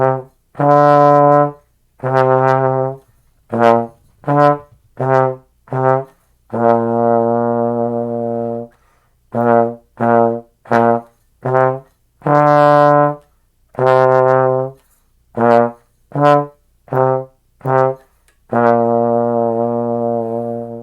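Trombone plays the French song Au Clair de la Lune alone, loud, in short separated notes with a few longer held ones, steady phrased melody.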